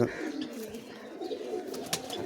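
Pigeons at a home loft give soft cooing calls, fairly close and steady across the moment, with a few brief chirpy notes over a low background.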